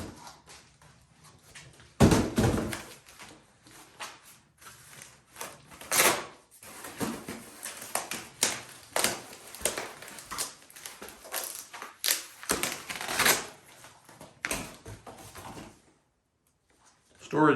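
Cardboard boxes holding storage bins are torn and opened in a workshop, with bursts of crunching, crinkling and flap-pulling noises coming in irregular clusters up close.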